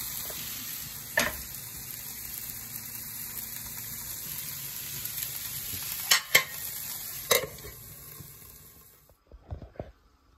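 Sem phali and potato sabzi frying in a pan on low heat: a steady sizzle and hiss with a few utensil clinks and scrapes, then near silence except for some soft clatter at the end.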